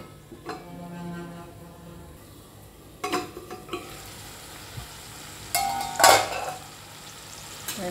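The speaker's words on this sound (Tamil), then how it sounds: "நல்லா கிளறி விடணும்." Pea chicken curry being stirred in a pan, with scattered scraping and clinking strokes of a spoon against the metal and a soft sizzle underneath, strongest near the end.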